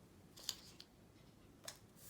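Scissors snip through paper in two or three quick, crisp cuts, close and quiet, with a faint background hush and no voices.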